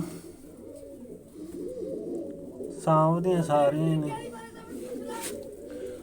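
Pigeons coo in a loft, low murmuring calls running throughout while someone speaks briefly in the middle, close and moderately loud.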